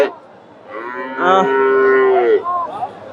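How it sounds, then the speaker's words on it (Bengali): A Friesian heifer moos once nearby at a cattle market in Gabtali, Bogura, a long drawn-out low bellow that rises and then fades, followed by a shorter grunt. "চমৎকার কিছু বকনা দেখতেছি ফ্রিজিয়ান জাতের"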